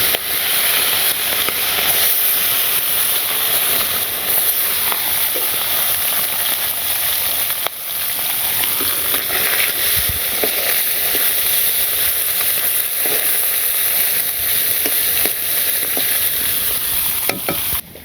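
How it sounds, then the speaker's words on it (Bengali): Small fish frying in hot oil give a steady, dense sizzle and crackle that runs unbroken and fairly loud throughout, with occasional pops and soft stirring scrapes, and no talking. "তো প্রথমে আগে শুক্তের মাছগুলো ভেজে নিই।"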